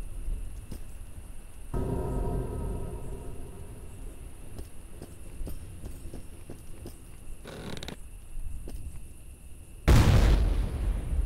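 A loud explosion in the Call of Juarez video game strikes near the end with a sharp, heavy boom, after quieter scattered pops and clatter.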